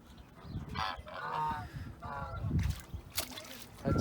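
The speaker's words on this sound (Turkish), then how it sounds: "Bunlar da şirkin ördek yavrusu" Ducklings of a ruddy shelduck swimming on water give honking, goose-like calls in irregular bursts, moderately near, with a voice talking intermittently and soft water sloshing.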